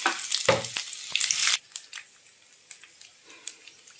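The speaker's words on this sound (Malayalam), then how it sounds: "അരിഞ്ഞ് വെച്ചിരിക്കുന്ന ഇഞ്ചിയും പച്ചമുളകും ചേർത്ത് കൊടുക്കാം" Chopped ginger and green chillies hit hot oil with a loud burst of sizzling and spattering in the first moments, then settle into a faint, steady crackle with small pops.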